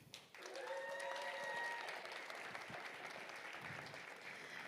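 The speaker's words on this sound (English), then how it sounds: "please give a round of applause to Mr." An audience at a startup pitch fest and showcase claps in sustained applause, starting abruptly and holding steady for several seconds, a dense patter of many hands in a hall.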